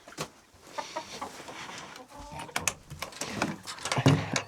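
A backyard flock of hens and roosters clucking and squawking close by, with overlapping calls and sharp bursts throughout, and one louder squawk near the end.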